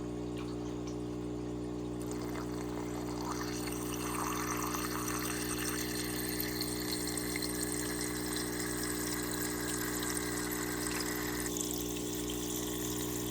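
Water runs through a hose during an aquarium water change, a continuous gushing flow over a steady low pump-like hum that holds unchanged for the whole stretch.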